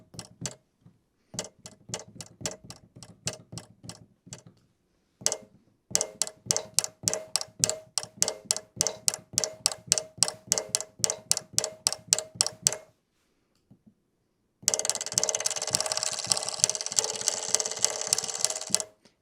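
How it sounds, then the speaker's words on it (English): Sampled cuckoo clock tick-tocks click in sharp, regular bursts inside a horror sound instrument, pausing twice, then giving way to a denser, brighter rattling texture at the end, with no voices. "The tick-tocks, of course, is going to be from a sampled cuckoo clock."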